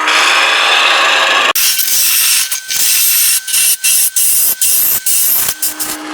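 A wooden box spinning on a lathe is cut with a hand-held turning tool, giving a loud continuous hiss that breaks into rapid repeated scraping strokes with short gaps.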